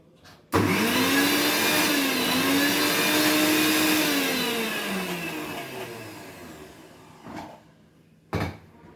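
A kitchen mixer grinder whirs loudly as it grinds ginger garlic paste, starting abruptly and running steadily for several seconds, its pitch dipping as it winds down, followed by two short thumps of handling.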